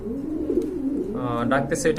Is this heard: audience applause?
no